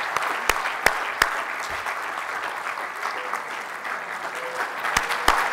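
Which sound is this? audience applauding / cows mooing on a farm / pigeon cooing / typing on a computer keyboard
audience applauding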